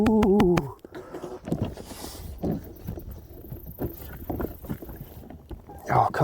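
Proboat Blackjack 42 RC boat on 6s power with a 1900kv motor and ZTW Seal 200a controller: a high motor whine at the start, then a distant hum over wind and water, with excited talk and a whine returning at the end.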